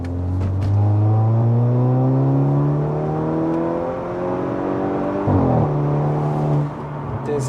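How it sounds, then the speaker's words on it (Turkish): A 315 HP software-tuned, modified Audi A5 45 TFSI Quattro accelerates up a steep hill, its engine note climbing steadily and loudly with a brief dip partway through as it shifts, heard from inside the car. "Yokuş yukarı bir ivmelenmeyi gördük."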